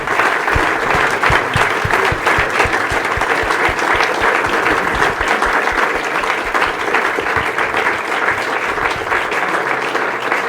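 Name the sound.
audience applause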